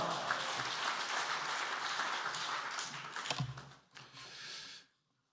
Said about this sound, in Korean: 할렐루야로 하나님께 영광 돌리며 박수로 환영하시겠습니다